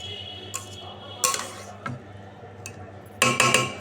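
A metal lid goes onto a cooking pan holding cashews and raisins, with scattered light clanks and taps, then a louder cluster of rattling metallic knocks near the end, all close by.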